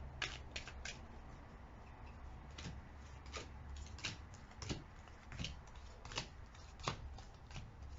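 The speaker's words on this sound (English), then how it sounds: "My odd way of shuffling to preserve my cards." An old, well-worn pack of tarot cards is shuffled gently by hand, giving soft, irregular riffling and tapping bursts close by against a quiet background.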